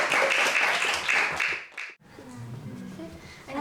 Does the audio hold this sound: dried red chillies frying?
no